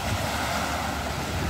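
Sea surf rolling onto the Romanian Black Sea shore at Mangalia at dawn, a steady continuous wash of waves with some wind noise, no voices.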